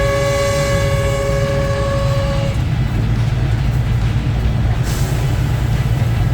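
A Cambodian train running from Kampot to Sihanoukville sounds a long, loud, sustained horn blast at a road crossing, then the horn drops away leaving the heavy rumble and rattle of the moving train.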